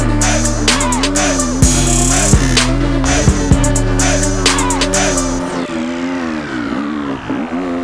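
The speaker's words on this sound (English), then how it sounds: "second gear all the way up. This bike is definitely fast." A 2015 Husqvarna FC250 dirt bike climbs a hill in second gear, its engine revving loud and close with a rising whine, then easing off near the end.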